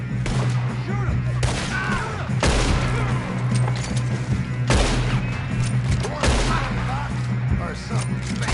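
Gunfire in the video game Red Dead Redemption 2, with several heavy shots and booms breaking out at irregular intervals over a continuous low hum of background sound, and voices talking in between.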